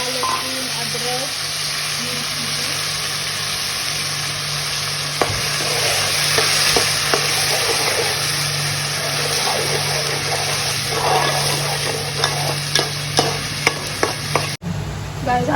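Ginger-garlic paste with onion and cumin frying in hot oil gives a steady close sizzle, broken by scattered clicks and scrapes from stirring, with a sharp knock near the end.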